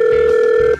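A telephone tone rings out on a single steady pitch for about three quarters of a second, loud and close with no voices, then cuts off.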